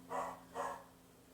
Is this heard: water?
no